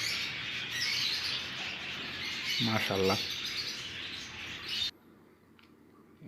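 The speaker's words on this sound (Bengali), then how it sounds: "অনেক পাখি এই জায়গায়" Many small caged birds, including cockatiels, chatter and chirp in a pet shop in a dense, busy chorus, with a brief spoken word partway through before the sound cuts away.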